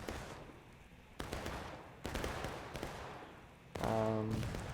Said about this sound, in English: CSA artillery hitting their own men.